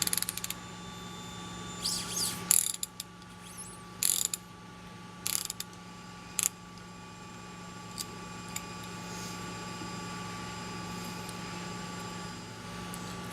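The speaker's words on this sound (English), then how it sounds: "take your 24mm socket for loop forks and then 28mm socket for stage forks, and just thread the damper off of the top of the fork." A socket ratchet works on the damper cap at the top of a bike suspension fork, giving a few sharp clicks and short bursts of mechanical clatter early on, followed by a steady low hum. No one speaks.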